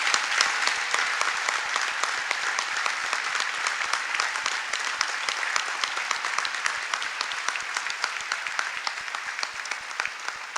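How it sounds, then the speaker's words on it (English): A large audience at the White House Correspondents' Dinner gives sustained, even applause, a dense wash of clapping that holds steady for about ten seconds with no talking over it. "Please give them a big round of applause."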